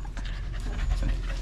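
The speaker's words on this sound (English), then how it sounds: "loud dog" A loud dog pants rapidly and close to the microphone on a newly built farm home in Vientiane, heard as continuous breathy huffing with no talking.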